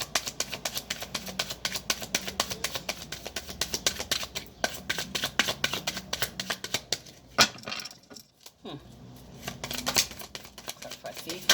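Tarot cards are shuffled and handled close up: a dense, continuous run of crisp papery riffles and snapping flicks with a short lull near the end before the shuffling picks up again.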